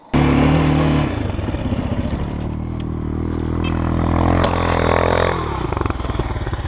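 A GEON X-Road 250 PRO enduro motorcycle engine idles and revs loudly up close, a steady buzzing drone that swells with throttle, with some clatter off-road.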